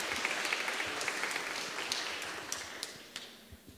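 A church congregation claps during an Education Sunday service, a fairly faint, scattered patter of hands that thins toward the end, with a few sharper claps standing out.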